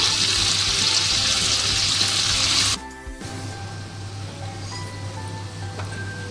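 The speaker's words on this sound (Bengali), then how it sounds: "পনিরগুলো ভেজে নিতে হবে প্রথমে।" Paneer fries in oil in a frying pan with a loud, steady sizzle for about three seconds, then the sizzle cuts out, leaving a softer background hum.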